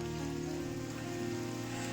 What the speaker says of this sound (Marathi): आता पुन्हा पाऊस जोर करता